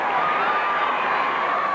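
A large crowd at a high school football game at Goodman Stadium, Lehigh University, makes a steady, broad murmur of voices and distant cheering throughout.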